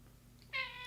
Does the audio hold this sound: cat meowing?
yes